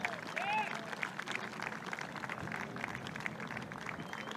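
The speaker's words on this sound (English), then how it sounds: "Big round of applause for both of these ladies as they make their way up" Golf gallery at the 2024 CME Tour Championship applauding Nelly Korda and Lexi Thompson as they walk up the 18th, steady outdoor clapping and cheering, a commentator talking over it, and a faint whistle near the start.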